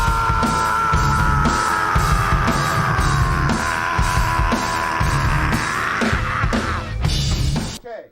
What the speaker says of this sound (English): I just want you to scream fuck. As hard as you can fucking scream.